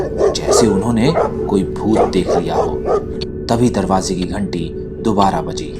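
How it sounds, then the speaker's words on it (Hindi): Dogs bark outside a flat at night in an animated horror story. Repeated barks, yips and whimpers come in bursts throughout, fairly loud, under a narrator speaking continuously. "बाहर से कुत्तों के भौंकने की आवाज भी आ रही थी"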